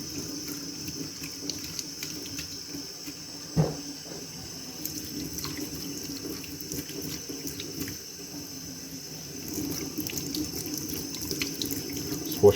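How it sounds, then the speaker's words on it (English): Tap water runs steadily from a faucet into a sink while graphics card fan blades are rinsed under it, a soft continuous splashing stream with brief clatters as the card shifts, close and alone with no talk. "Just washing the blades without getting any water into the motor"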